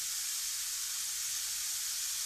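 Hot oil hisses and sizzles steadily in a frying pan as potato batter is cooked, a continuous soft high-pitched crackle with no voices.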